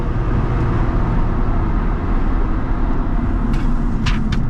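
Interior drone of a 2000 Chevrolet Corvette C5 V8 while driving, a dense continuous low rumble mixed with road and wind noise, steady and loud throughout with no talking.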